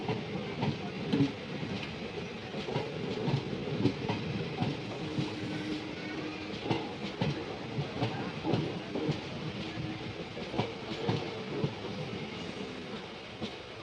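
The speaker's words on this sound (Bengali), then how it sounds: "রামপুর বাজার স্টেশন থেকে ট্রেন ছাড়লো" A Howrah–Balurghat Express train departing Rampur Bazar station rumbles steadily with rhythmic clacking of wheels over rail joints, continuous and fairly close throughout.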